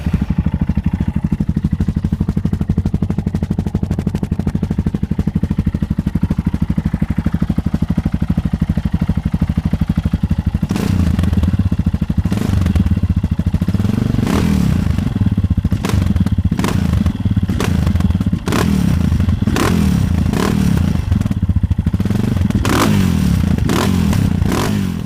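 A KTM supermoto motorcycle engine runs loudly and steadily up close, then gives a series of sharp blips and revs with clattering bursts in the second half.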